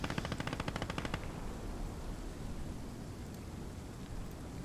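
Rapid machine-gun bursts in the World War II game Gates of Hell: Ostfront rattle in a steady rhythm for about a second, then give way to a quiet hiss. A single sharp crack comes at the very end, all fairly faint.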